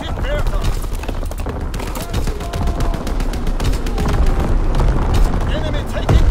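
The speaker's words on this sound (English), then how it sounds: "Incoming enemy artillery. Get to cover." Enemy artillery barrage in a Call of Duty multiplayer match, loud continuous booms and crackling gunfire layered with dense rapid impacts throughout, under game announcer speech.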